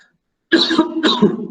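Two quick, harsh coughs close to the microphone after a moment of silence, with a throaty rasp.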